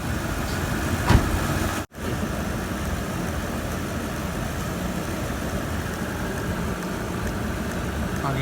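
A car engine idles steadily in a garage during an automatic transmission fluid flush on a high-mileage vehicle, a constant low hum with one brief dropout.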